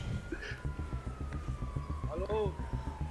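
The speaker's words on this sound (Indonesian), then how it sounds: "Udah terdengar suara sirine sih." A police siren in GTA V wails faintly in the background beneath a steady rhythmic beat, with a voice briefly talking over it.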